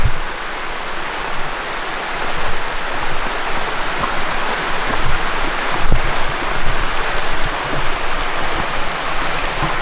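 A river running below a hill on a crag walk makes a steady broadband rushing of water, continuous and fairly loud throughout, with one brief louder splash or knock near the middle and no voices.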